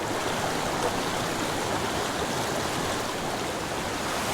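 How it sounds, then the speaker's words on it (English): Flowing water of a small mountain creek running through solid rock, a steady, close rushing and babbling that fills the whole stretch without pause. "Very unique little creek we have here."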